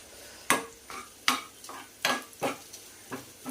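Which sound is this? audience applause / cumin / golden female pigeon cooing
cumin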